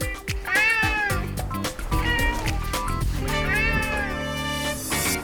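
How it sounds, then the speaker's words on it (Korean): A clingy pet cat meows repeatedly and loudly close up, drawn-out wavering cries following one another, with a person talking over parts of it. "야옹야옹 따라다니는데 어쩌라는 거예요?"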